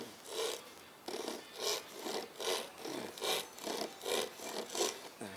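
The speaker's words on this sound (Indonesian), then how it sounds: "gergaji lagi." A hand saw cuts through wood in steady back-and-forth strokes, about ten rasping pushes and pulls at an even rhythm, close and moderately loud with no talking.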